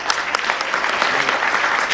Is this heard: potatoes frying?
no